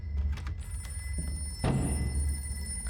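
A telephone rings inside the horror video game Layers of Fear, its steady electronic tone carrying through a low droning ambience, with a dull thud partway through.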